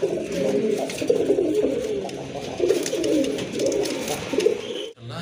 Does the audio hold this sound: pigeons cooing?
yes